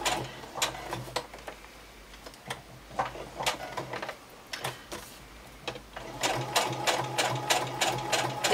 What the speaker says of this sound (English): I'm just going to stitch around the edge